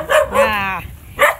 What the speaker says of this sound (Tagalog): Yan ang mga aso mag-ingay.